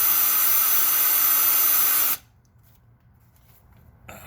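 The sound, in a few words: drilling out a broken stud on a Toyota Tundra engine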